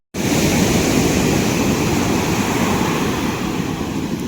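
Ocean surf breaks on a black-sand beach in Kerala as a loud, steady wash of waves, with a constant roar and no pauses, and wind hiss blends in with the water.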